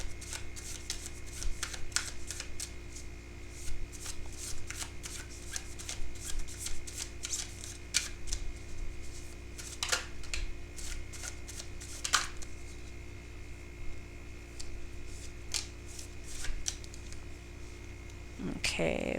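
Tarot cards being shuffled repeatedly, with bursts of riffling and flicking snaps spread over a long stretch, close by and moderately loud.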